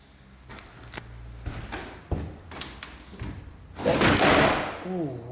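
A solid wooden front door of an abandoned house thuds and knocks several times in short, irregular impacts, close and fairly loud, followed by a longer scraping rush, with some speech around it.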